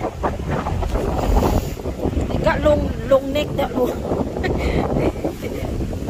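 Wind buffets the microphone in steady, loud rumbling gusts beside Hornsea Mere lake in England, with a person talking over it and some faint birdlike calls in the middle.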